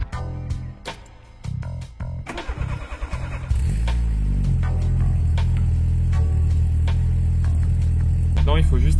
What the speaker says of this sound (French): vous partez démarrer la voiture